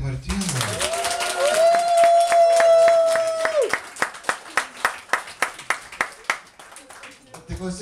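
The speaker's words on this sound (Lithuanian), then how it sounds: "kur jūsų aplodismentai Martynui?" Guests at a wedding party clap in a brief burst that thins into a few slow, evenly spaced claps, with a sustained tone and talk over the first half.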